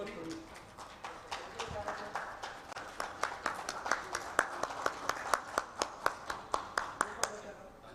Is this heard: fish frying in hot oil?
no